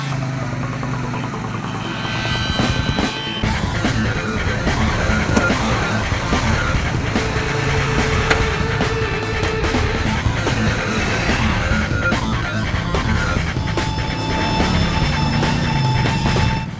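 A Wildcat 4 side-by-side off-road vehicle drives hard, its engine loud and close with constant rumbling and rattling, bursts of revving and skidding over rough ground for the whole stretch.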